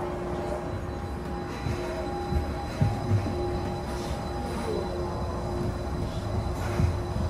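The Disneyland Monorail runs, heard from on board as a steady rolling rumble with faint tonal whines and occasional soft clunks, no voices over it.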